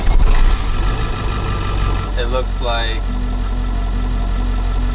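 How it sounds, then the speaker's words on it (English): Low, steady idle of a 7.3-liter diesel engine in an ambulance conversion, a continuous rumble running throughout, with a person speaking briefly over it midway. "low idle sits at about 64 decibels, and then if I change the idle to go higher, that's about 72, 73."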